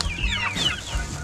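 A hen near her eggs gives a few soft, throaty clucks, close by and fairly quiet, over a faint low background hum.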